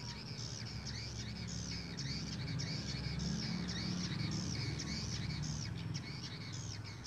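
A swiftlet lure call plays from a speaker inside a seven-year-old swiftlet bird house. Repeating high chirps and twitters sound in a steady looping pattern over a constant low background hum.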